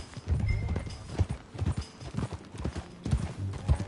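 Hooves clip-clop in a steady rhythm over a low rumble of movement, close and fairly loud, with no talking, in Red Dead Redemption 2.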